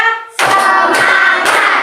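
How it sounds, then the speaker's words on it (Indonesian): Children clapping their hands in a counting clap game, with a sudden loud burst of close clapping that holds steady and swells again before the end, and no talk. "Tepuk 1, tepuk 2, tepuk 3"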